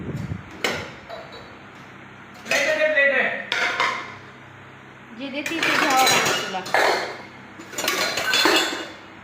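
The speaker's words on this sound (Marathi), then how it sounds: "एवढं भांडी मांडते" Steel utensils and dishes being set out in a village home kitchen, with bursts of clattering, clinking and scraping between brief pauses, while someone talks over part of it.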